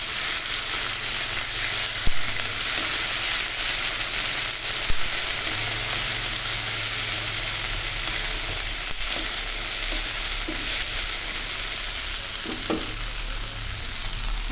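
Onions and chopped tomatoes for soybean biryani sizzle and fry steadily in a hot pan as they are stirred, a continuous close crackle with occasional scrapes of the spoon and no talking.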